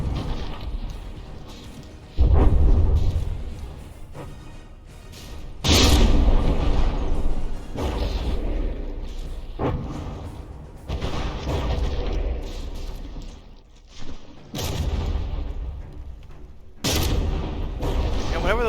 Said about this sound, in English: Whenever those explosions hit the belt armor, they do significantly less